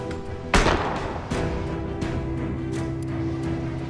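Gunfire exchange in the naval game Abandon Ship, with a heavy cannon-like boom near the start followed by a second blast and a steady clatter of shots and impacts over rumbling battle noise.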